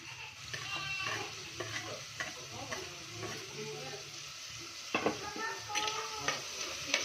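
Onions and green chillies sizzle and fry in a pan, with a steady crackling hiss and occasional clinks and scrapes of stirring.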